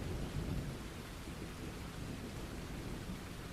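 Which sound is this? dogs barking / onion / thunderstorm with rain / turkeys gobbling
thunderstorm with rain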